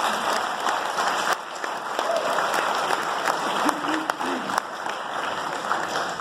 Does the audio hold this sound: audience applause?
yes